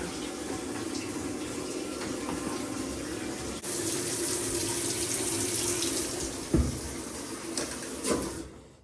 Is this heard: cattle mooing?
no